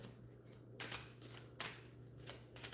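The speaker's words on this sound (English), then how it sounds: "let me shuffle again so you can see what I'm doing" A deck of tarot cards is shuffled by hand in a few quick riffling bursts, close and quiet, with no talking.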